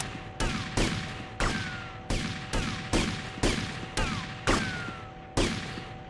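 Gunfire in GTA Vice City, about ten single sharp shots spaced roughly half a second apart, each decaying quickly over a constant game hum, with no talk.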